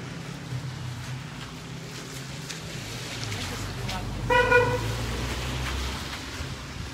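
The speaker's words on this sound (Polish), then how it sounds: "kierowca pozdrawiał klaksonem" At a weekly women's strike protest in Działdowo, a passing driver gives a short car horn toot, heard over distant traffic rumble and crowd noise.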